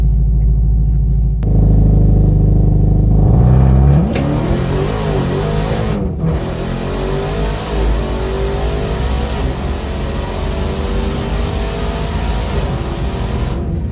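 A Dodge Challenger SRT Demon 170 engine roars and revs hard during a burnout, pitch climbing and shifting as the car holds in place, a steady, close, throaty rumble throughout.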